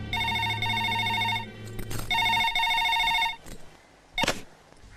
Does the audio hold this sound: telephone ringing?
yes